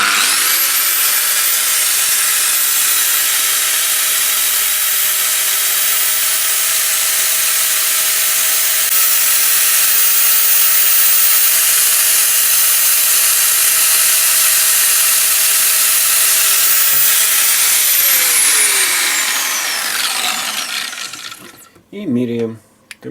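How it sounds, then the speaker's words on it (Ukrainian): A Bosch GVS 9125 angle grinder runs unloaded at maximum speed, a loud steady high-pitched whine held for about twenty seconds, then it switches off and spins down, followed by a few handling clicks. "кутова шліфмашина болгарка Bosch GVS 9125 s Ставимо максимальні оберти е, і пробуємо"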